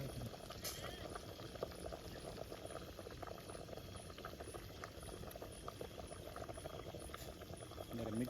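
A steady bubbling, hissing simmer of freshwater fish curry in a pot, continuous and close, with faint background voices.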